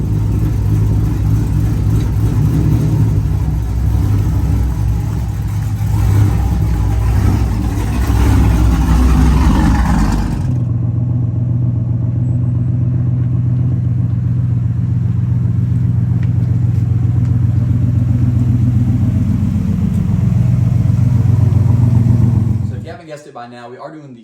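A pickup truck engine idles and rumbles steadily up close while being moved in and out of a garage, a deep low drone that drops in character partway through and cuts off at the end, with talk over it.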